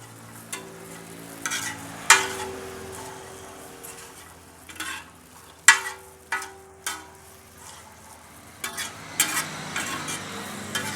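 Black chickpea chaat being stirred and mixed with squeezed lemon juice in a bowl, with repeated scraping and clinking of a spoon against the dish in short bursts, close and fairly quiet.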